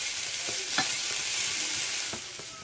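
Onions fry on a stove for onion jam, a continuous hissing sizzle with a few light clicks and scrapes of stirring scattered through it.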